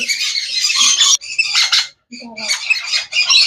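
Conure parrots squawk repeatedly in a bird shop, harsh loud bursts coming close together with a brief pause midway, no talk over them.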